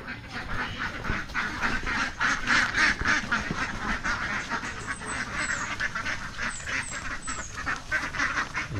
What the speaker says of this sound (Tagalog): Ay, ang itik.